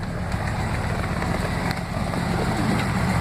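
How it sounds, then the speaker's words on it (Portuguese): A car engine fitted with vacuum advance idles smoothly and slightly fast, a steady low rumble with an even pulsing rhythm and no stumbles, loud and close. "Motor trabalhando uma marcha lenta boa, sem tropeço."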